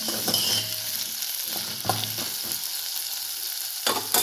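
Leafy greens sprinkled with salt sautéing in a pan for keerai sambar, a continuous close frying sizzle punctuated by several spatula scrapes and stirring knocks at uneven intervals.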